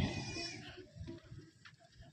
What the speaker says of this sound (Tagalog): May kambing dun guys oh.